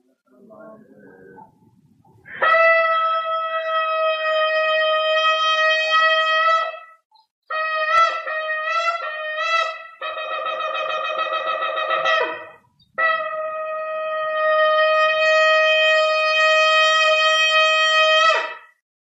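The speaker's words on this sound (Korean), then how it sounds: "한번 나팔 소리가 어떤 소리인가 한번 들려드리겠습니다." Shofar blasts blown on the Temple Mount on the Day of Trumpets: several long, loud, sustained horn tones, with one broken into short wavering bursts, separated by brief silences.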